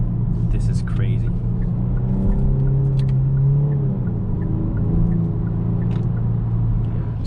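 A 2021 Genesis G70 with the 3.3-litre turbo engine and eight-speed automatic, heard from inside the cabin as a steady, deep engine rumble under way, holding fairly constant throughout.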